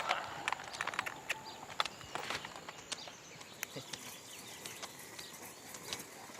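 Donkey hooves stepping on soil between tightly spaced crop rows, a series of irregular soft clops and thuds, closest and sharpest at the start, then quieter and sparser, with faint birds in the background.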